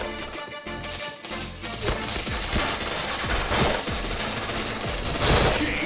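Rapid bursts of automatic gunfire and single shots crackle loudly and continuously through a shooter video game firefight, with dense overlapping shots building toward the end.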